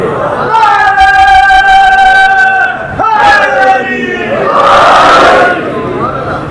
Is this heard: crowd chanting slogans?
yes